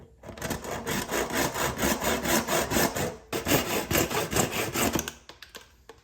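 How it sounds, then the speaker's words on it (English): A plastic P-trap wall tube is sawn to length with quick, rhythmic back-and-forth strokes, close and loud. There is a brief pause midway before the sawing resumes and then stops near the end. "now I'm gonna cut a wall tube to the size I need"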